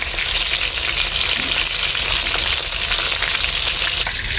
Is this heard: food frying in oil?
yes